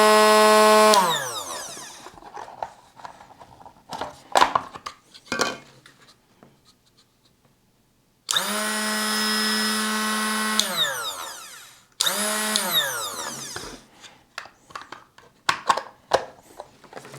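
A Parkside PBSG 92 A1 drill bit sharpener motor starts with a loud whine and spins down after about a second, then runs twice more for several seconds, with handling clicks and knocks in between.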